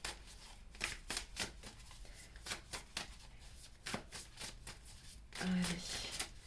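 Tarot cards being shuffled for a reading, a soft crisp riffling and slapping that repeats in an irregular rhythm, close and fairly quiet, with a brief voice near the end.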